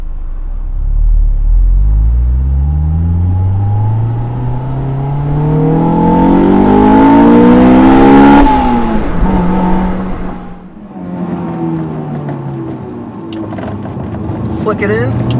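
A Honda S2000 AP1 engine revs steadily up toward its 9000 RPM limit with a rising, loud, close howl, then drops off sharply as the throttle lifts and settles back into a lower drone.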